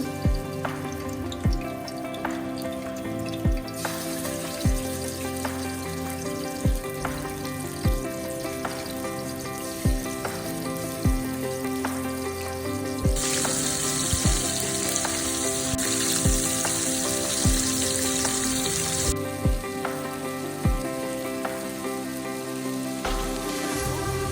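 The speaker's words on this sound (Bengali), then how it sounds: "মাছগুলোকে হালকা তেলে ভেজে নেব" Marinated tilapia fish fry in a light layer of oil with a steady close sizzle and crackle that swells louder for a stretch midway. Regular sharp taps of a utensil against the pan recur throughout, and no one speaks.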